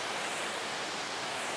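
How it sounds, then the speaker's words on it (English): Water tumbling off a waterfall in a mossy landscape makes a steady, even broadband rush with no breaks, close and full throughout. "water coming off the falls up here"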